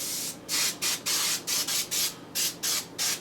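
Short bursts of cooking spray hiss onto the metal grates of a Little Chief smoker, about nine quick sprays in an uneven rhythm, close and distinct with no talking.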